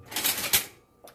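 A knife cuts through Oreo cookies at close range, a short crunchy crackle followed by a sharper snap and a faint final tick.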